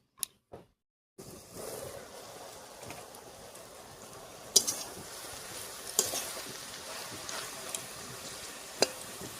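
Spinach being stirred in a pan with a ground ginger and cumin paste, a steady low sizzle and soft scraping that runs throughout, punctuated by a few sharper clinks of the utensil against the pan.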